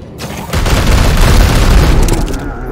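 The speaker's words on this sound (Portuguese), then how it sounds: "Aqui eu posso dar uns tiros aqui" Heavy booming bursts of gunfire and explosions roll continuously for a few seconds, loud and dense, with game-style impact sounds, from the video game Warhammer 40,000: Chaos Gate - Daemonhunters.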